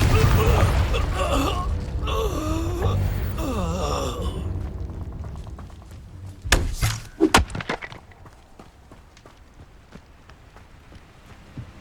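A Confringo fire spell is cast in Hogwarts Legacy, a cluster of sharp, loud blasts and thuds that follows a stretch of busy in-game voices and effects, then fades to a quiet ambience.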